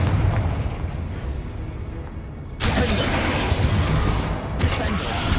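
A Confringo spell in Hogwarts Legacy sets off a booming blast that swells into a loud, rumbling burst of debris and crackle over dense game noise, with a voice speaking during it.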